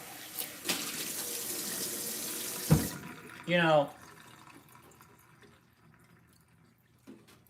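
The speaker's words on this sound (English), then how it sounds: "just rinse it off a little bit here" Water from a tap runs briefly over a brand-new item being rinsed in a kitchen sink, a short gush that stops after a few seconds, with faint handling noise and a voice talking nearby.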